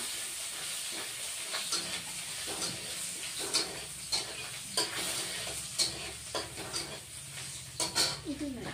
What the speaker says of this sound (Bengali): এখন অল্প পেঁয়াজ ফোড়ন দিলাম।